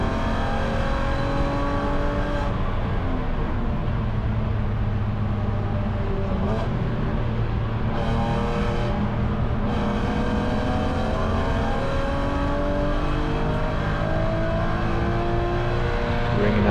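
A BMW E9X spec race car's engine screams close up as it climbs through the revs on track, loud and sustained with rising harmonic sweeps, briefly easing at a few gear changes.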